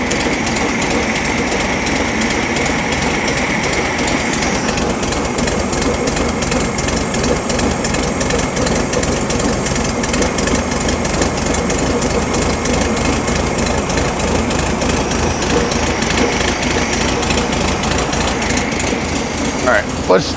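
A 1972 VW Super Beetle's air-cooled engine idles with a fast, rough, rhythmic chatter during carburetor tuning, loud and close, with a voice speaking over it at times.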